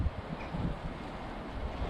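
Steady wind buffets the microphone, a continuous low rumbling roar with no other sounds.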